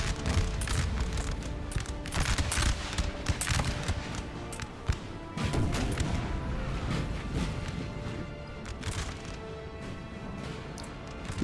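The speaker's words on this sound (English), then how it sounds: "We've got here 2 8-pounder cannons. Looks to be firing towards this unit of Cuirassiers." Two 8-pounder cannons fire at a unit of Cuirassiers in a Napoleon: Total War battle, with repeated booms and crashes over a dense, continuous din of battlefield noise.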